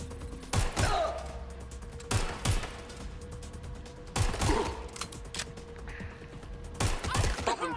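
Gunfire in the video game Watch Dogs: Legion: sharp, loud shots arriving in spaced clusters every couple of seconds, each with a thudding body and short echo, over a steady hum, with occasional voices in between.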